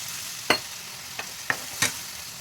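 A spoon scrapes through frying masala as leftover bottle gourd water is stirred in, with four sharp, close scraping strokes spaced apart over a soft, steady sizzle.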